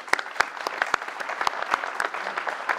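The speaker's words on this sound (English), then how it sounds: "We have a round of applause for the College Democrats." Thin, scattered clapping from a small audience at a Maryland gubernatorial candidate forum at Salisbury University, greeting the College Democrats; individual sharp claps stand out separately against a light background.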